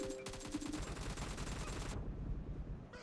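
Rapid automatic gunfire in the Battlegrounds Mobile India (PUBG) game, a dense sustained burst of shots lasting about two seconds, then a lower rumbling continuation of the firefight.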